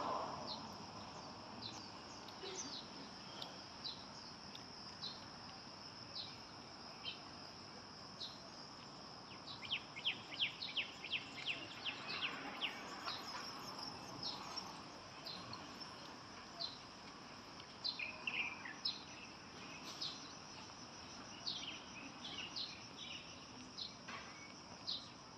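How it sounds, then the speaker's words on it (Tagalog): Birds chirp and call outdoors in scattered bursts over a steady, faint chorus of insects trilling throughout. "yung huni ng mga ibon"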